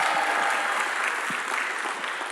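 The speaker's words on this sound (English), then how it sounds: "How about a round of applause for Jamie Trent and the Emerson Poetry Project?" An awards-ceremony audience applauds a poetry project, a brief, dense, steady wash of clapping that fades slightly toward the end.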